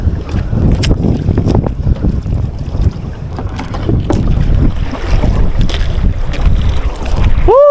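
A fishing boat's engine runs steadily at sea during a trip for tangigue and squid traps. It makes a loud, continuous low rumble mixed with wind buffeting, with no talk.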